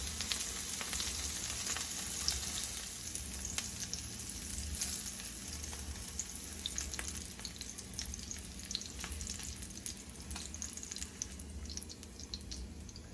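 Salmon pieces searing in a hot pan for Cajun salmon pasta give off a steady, dense sizzle that runs unbroken throughout, close and fairly loud, with no talking.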